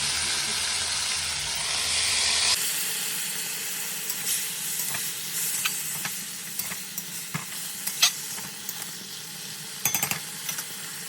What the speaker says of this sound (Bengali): ভাজা ভাজা হচ্ছে